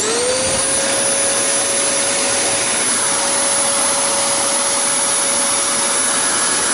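A loud Simplicity or Riccar upright vacuum cleaner motor roars steadily up close, spinning up at the start into a constant high whine with rushing airflow.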